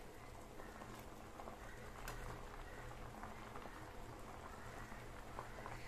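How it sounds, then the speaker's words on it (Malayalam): A pot of homemade liquid plant fertilizer boils on the stove, giving a continuous soft bubbling and gurgling with faint popping, fairly quiet and steady throughout, with no talking. "നന്നായി തിളച്ചിട്ടുണ്ട്."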